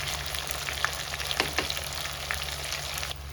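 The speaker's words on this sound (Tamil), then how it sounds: "இப்போ வந்து கடுகு சேர்த்துக்கலாம்." Mustard seeds frying in hot oil in a pan for a Tamil kara kuzhambu with small onions and garlic, a steady sizzle with scattered sharp pops and crackles, close up and alone.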